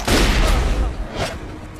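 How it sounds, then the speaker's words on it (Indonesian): A gunshot from the 2006 horror film Saw 3, a heavy booming blast followed by a second burst about a second later, loud and close with a rumbling low end. "pria yang diselamatkan sebelumnya mati karena tembakan, dan Timotheus Young tidak terselamatkan."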